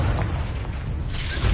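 Confringo spell explosion in the video game Hogwarts Legacy, a short heavy booming blast with deep rumble and a crackling burst, loud and close, no voices.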